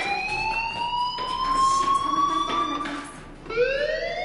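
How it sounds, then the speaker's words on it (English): In the video game Life is Strange, a school fire alarm wails in repeating rising electronic tones, sounding continuously and fairly loud over a faint background hum. "Hey, do you hear that fire alarm?"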